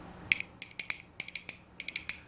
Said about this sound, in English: these are the femur from a cow, the front legs of a cow. And they sound like this.